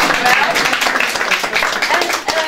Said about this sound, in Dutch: En ik zou zeggen applaus voor jezelf, maar ik klap voor jullie.